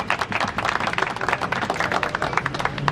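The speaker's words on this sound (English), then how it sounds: "Let's give a round of applause to Gazman Jambalai." Crowd applause rings out at an outdoor demonstration outside the Serbian Embassy in Washington DC, a dense, steady patter of many hands clapping for about three seconds with no talking over it.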